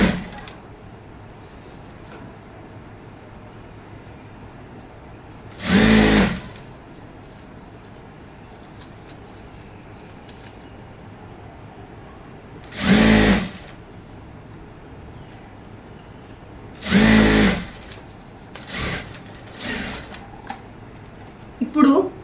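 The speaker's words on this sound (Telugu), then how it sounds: "టాప్స్ కుట్టి ఇలాగ ఎడ్జ్లో స్టిచ్ వేయండి." A sewing machine stitching the edge of a salwar pant runs in short bursts of a second or so, separated by several seconds of quiet room tone.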